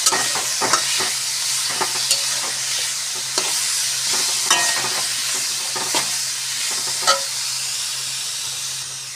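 Star fruit chutney with salt is stirred in a hot pan, the sizzle and hiss running steadily while a spoon scrapes and clacks against the pan in irregular strokes, close and clear.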